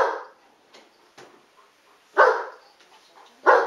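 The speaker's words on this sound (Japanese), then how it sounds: "もうこうやって吠えてる" A dog barks three times, loud and close, one bark at the start and two more spaced near the end, with small yips and quiet gaps in between.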